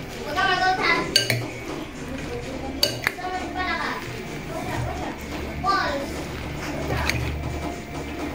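A lettuce salad being tossed and mixed in a bowl gives soft, continuous rustling with several clinks of a utensil against the dish, under a voice and faint children's chatter.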